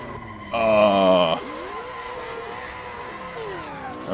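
A 1967 Camaro SS runs fast on a runway near 130 mph. A loud rising engine whine comes first and falls away at a gear change. A steadier drone follows, with what may be a faint voice in the background.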